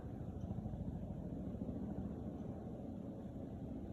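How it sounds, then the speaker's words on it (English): A double-rotor firefighting helicopter flies over a 2023 wildfire, its low, steady rotor rumble faint and distant throughout, with no voices. "Double rotor helicopter."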